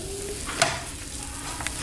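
Scrambled eggs sizzling in a frying pan, a continuous hiss with a sharp scrape or clink partway through, close and fairly loud.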